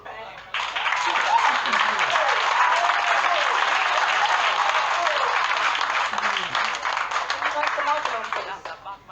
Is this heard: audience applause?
yes